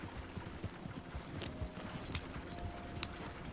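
Horse hooves clip-clop steadily in a video game, a continuous run of quick, close hoofbeats over a busy background ambience with no talk.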